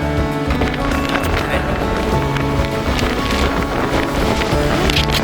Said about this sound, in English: That wind is something else right now.